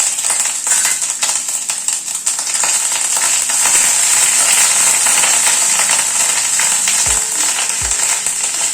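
Ginger paste frying in a pan over a low gas flame, giving a loud, dense, continuous sizzle close by, with a couple of low knocks near the end and no talking.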